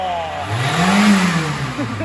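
A 3.0 turbo diesel car engine revs up and falls back once, loud and close, with a rising and falling drone and voices heard faintly alongside.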